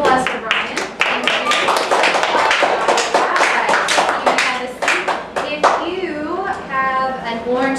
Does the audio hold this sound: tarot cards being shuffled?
no